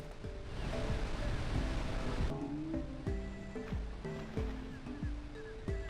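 River water rushes in the Jak and Daxter video game, a loud steady wash that thins partway through, leaving a game music melody and short tonal effects playing over the flowing water.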